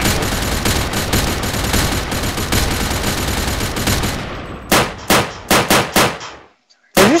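Rapid gunfire from Crafting Dead, a Minecraft mod, rattles in a dense continuous burst for about four seconds, then breaks into several separate loud shots before a brief silence.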